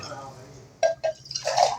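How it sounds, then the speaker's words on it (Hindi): Water splashes and glugs into a cooking pot while chicken biryani is being prepared, with short bursts of pouring and dripping over a faint background, and a voice speaks along with it. "तो अब हम डालेंगे पानी, जितना डालना है।"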